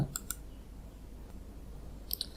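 A computer mouse clicking during Windows 10 setup: two quick crisp clicks at the start and another pair near the end, close and clear over a faint room hum.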